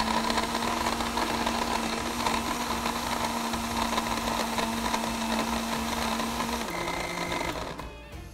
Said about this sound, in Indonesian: Senang, masuk dalam blender,